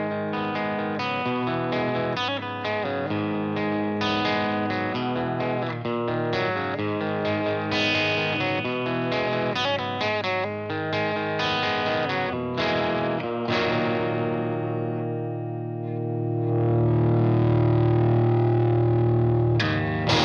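Distorted electric guitar played through a cabinet loaded with two Celestion V30 speakers, close-miked, with chugging chords and riffs that ring out into a sustained held chord at the end, loud and alone without talk.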